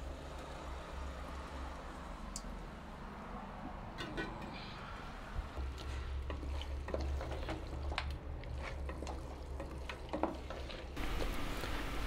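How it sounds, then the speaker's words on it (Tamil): Goat mutton being stirred and fried with ginger-garlic paste in a pan, a soft steady sizzle with scraping spoon strokes and occasional clinks, fairly faint and close. "கறியை போட்டதுக்கப்புறமா இந்த இஞ்சி பூண்டு அந்த பேஸ்ட்டோட இந்த கறியை நல்லா புரட்டி விட்டுக்கலாம்"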